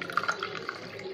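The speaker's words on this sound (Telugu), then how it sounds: "నీళ్ళు వేసాను కొంచెం." Water is poured into homemade lemon sharbat, a short, faint liquid trickle with light splashing and dripping, heard close and alone in a quiet kitchen.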